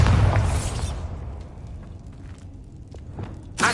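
Bombarda blasting spell in Hogwarts Legacy, a loud close explosion that bursts at the start and decays over about a second, followed by faint footsteps and a second sharp burst at the end.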